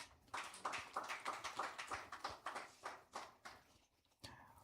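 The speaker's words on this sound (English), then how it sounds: "Let's give me a round of applause," An audience at a Digital Africa conference claps in a quick, uneven patter of hand claps that runs for a few seconds, then thins out and stops.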